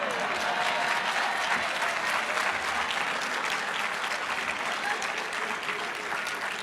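A large audience at a university celebration claps steadily and loudly throughout, a dense continuous wash of hands with crowd murmur beneath.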